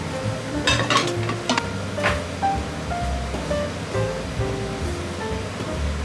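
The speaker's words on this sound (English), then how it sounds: "I'm using 2 frying pan. This one for noodle. This one is oyster garlic sprout sauce." Noodles and an oyster garlic sprout sauce cook in two frying pans, giving a steady loud sizzle and bubbling with a few sharp clinks and scrapes of utensils against the pans near the start.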